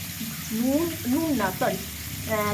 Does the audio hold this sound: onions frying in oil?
yes